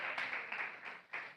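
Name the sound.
congregation applause in church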